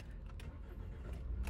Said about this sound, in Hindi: So let's just start the car.